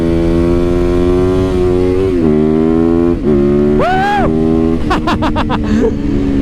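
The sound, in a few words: stock motorcycle engine revving and accelerating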